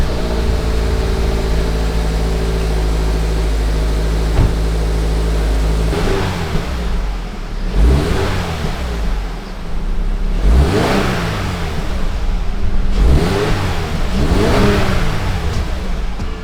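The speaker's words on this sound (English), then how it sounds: "let's do a last startup on the stock exhaust and do some revs." A Subaru BRZ engine on its stock exhaust idles with a low rumble, then revs up sharply three times, each rise swelling loudly before falling back to idle.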